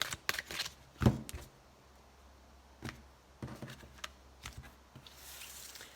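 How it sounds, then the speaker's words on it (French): Oracle cards being shuffled by hand come through as soft, quiet riffling bursts and a few sharper flicks, scattered irregularly across a hushed room. "je mélange bien et après je vais je bats mes cartes"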